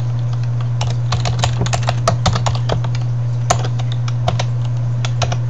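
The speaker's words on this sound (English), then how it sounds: "So here's where you type in your master password." Rapid keystrokes on a computer keyboard as a master password is typed, a quick irregular run of close, crisp clicks over a steady low electrical hum.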